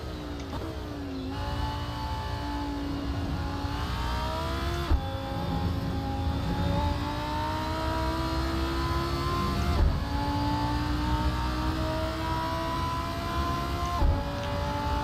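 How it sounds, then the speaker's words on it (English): Lamborghini Huracan Performante racing engine at Monza in Assetto Corsa, a loud sustained high-pitched V10 wail climbing through the gears with sharp drops at each upshift, steady and close throughout with no talk. "we're all going to be racing in the Lamborghini Huracan Performante"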